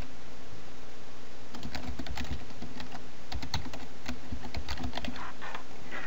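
Quick keystrokes on a computer keyboard rattle in irregular bursts over a faint steady hum, close and fairly clear, with no talking.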